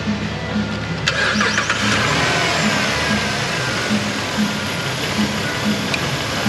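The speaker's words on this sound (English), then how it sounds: "Restarting the engine." A car engine restarts with a brief cranking burst, then settles into a steady idle that runs on with faint clicks and a low rhythmic hum, after work on a clogged radiator.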